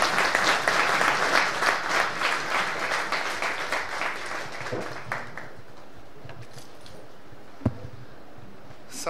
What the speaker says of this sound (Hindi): का भरपूर तालियों से स्वागत किया जाए।